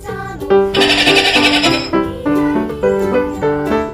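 Loud, wavering bleats from a sheep in a children's farm-animal learning game, with one long, harsh, strained call followed by several shorter bleats, heard alone.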